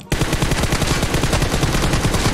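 A gun fires in rapid automatic bursts in a video game, a loud, continuous stream of close shots lasting about two seconds, with no voices.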